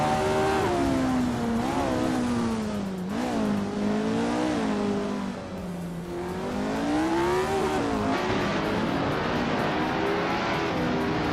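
A classic Ferrari 312 race car engine in a racing video game whines continuously at high revs, its pitch sweeping up and down through gear changes and corners, loud and unbroken throughout.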